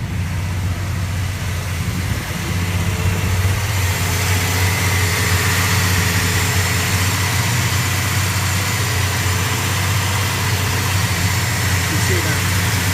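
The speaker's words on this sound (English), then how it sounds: "so it should idle right around 900 RPM" A cold 1970 Dodge Coronet with a 340 six-pack V8 idles at about 900 RPM, a loud, steady, even rumble close up throughout.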